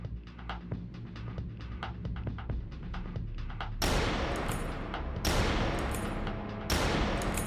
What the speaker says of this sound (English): He's shooting in this direction.